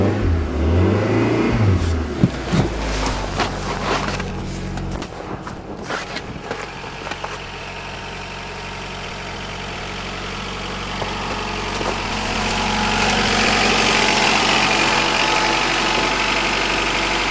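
A 1991 Honda Accord engine cranks and starts on a winter day after sitting for months, then revs unevenly before settling into a steady, loud idle, close by, with some footsteps and handling noises.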